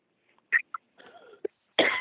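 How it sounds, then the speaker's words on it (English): A few short, sharp coughs close to the microphone in a quiet room, ending with a louder, rougher burst. "Sorry, I didn't mean to cough in your ear there."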